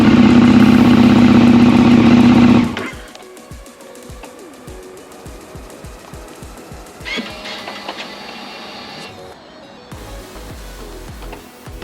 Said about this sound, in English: Bike now starts.